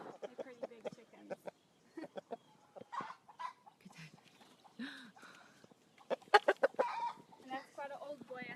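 Chickens cluck in short, irregular bursts close by, with some louder squawks and a voice speaking in between.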